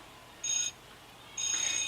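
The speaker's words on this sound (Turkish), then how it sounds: "Hey zil çalıyor." School bell ringing inside the Avatar World mobile game, two short electronic rings separated by a brief pause, clear and alone without talk.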